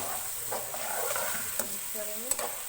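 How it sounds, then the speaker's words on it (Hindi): Garlic ginger paste frying with cumin and tomatoes in a pan for daal mash, a steady soft sizzle with a few light stirring scrapes and clicks, close and continuous with no talk. "लहसुन अदरक को भूनने के बाद हम इसमें टमाटर शामिल करेंगे"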